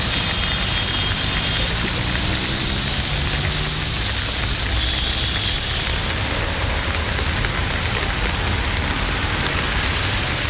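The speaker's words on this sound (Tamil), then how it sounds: "ஆவடியில் சுமார் 1 மணி நேரமாக கனமழை கொட்டி தீர்த்தது." Heavy rain pours down steadily on a flooded main road near a bus stand in an industrial estate, a dense continuous hiss of rain hitting water and pavement throughout, with no talk.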